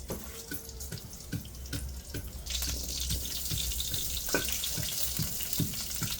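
Mustard seeds, cumin and curry leaves splutter and crackle in hot oil in a pan for a ragi mudde and horse gram saaru meal. Close, steady sizzling carries dense popping that grows busier partway through, with no talking.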